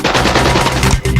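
An AK-47 rifle fires a rapid automatic burst, dense loud cracks in quick rhythm close by, with a brief gap near the end before firing resumes.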